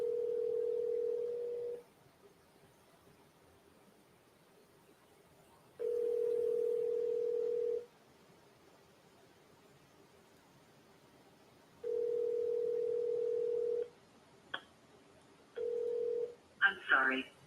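A telephone call rings out in three evenly spaced, steady two-second ringback tones separated by long silences, followed by a few brief clicks and tones as the call reaches voicemail.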